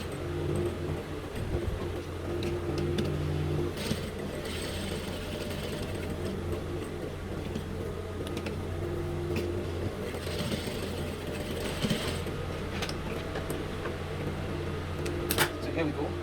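A sewing machine runs a decorative topstitch on cargo pockets, a steady close mechanical hum and whir that carries on without a break, with small clicks and bumps over it.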